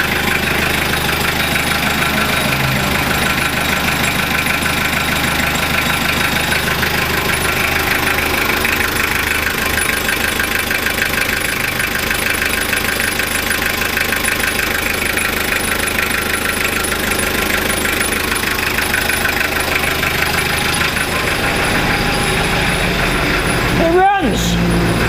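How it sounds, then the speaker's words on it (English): A rebuilt Toyota 5L diesel engine idles close by, a loud, steady, knocking diesel clatter that runs continuously, with talking over it. "Yeah, it just sounds like he's got a bit of a diesel crack to it."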